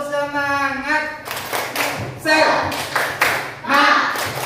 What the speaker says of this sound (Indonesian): mari kita tepuk semangat dulu.